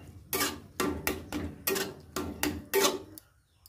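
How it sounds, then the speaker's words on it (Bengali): A spatula stirs and mashes cooked bottle gourd in a pan, making about seven sharp, evenly spaced taps and scrapes against the metal, close and clear, with no talk. "আমি খুন্তির সাহায্যে একটু মানে ঘেঁটে নিচ্ছি লাউটা"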